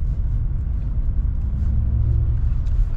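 Audi S3 held at full throttle in snow, a steady deep engine rumble throughout, close and loud with no break.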